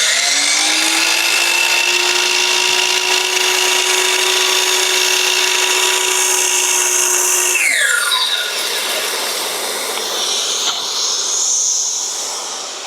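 A miter saw whines at a steady high pitch while its blade cuts wood for a cross, loud and close, then the tone sweeps and drops as the cut ends and the motor spins down.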